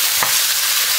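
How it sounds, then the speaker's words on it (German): Meat for goulash sears hard in a hot pan, giving a steady, loud sizzle that fills the clip with a brief stir or scrape near the start. "wenn ich das gut anbrate, scharf anbrate, kriege ich automatisch eine dunkle Soße"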